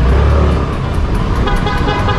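Car horns honk loudly and continuously in busy street traffic, several overlapping blasts over a constant roar of engines and road noise.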